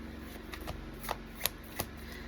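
Tarot cards being shuffled by hand during a Pisces reading, a few soft riffling snaps and slides at an even pace, close and quiet, with no talking.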